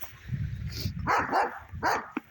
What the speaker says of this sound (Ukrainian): Це не собака, це якийсь жах якийсь.